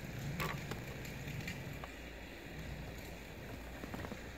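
A remote controlled snow blower shovels through snow outdoors, a continuous rough churning rumble with light wind noise and a few scattered scrapes, fairly faint and steady.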